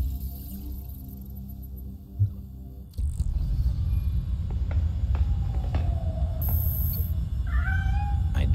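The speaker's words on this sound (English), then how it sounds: "How did a cat get past our security protocols?" A cat meows a few times in the Gotham Knights video game, the calls fairly clear over a steady low ambient hum and game background sounds after a quieter opening.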